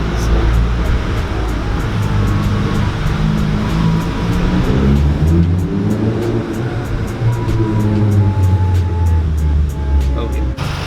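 A modified MK7.5 car exhaust revving inside a parking garage, a loud, steady low rumble that rises and falls with throttle, booming off concrete walls throughout.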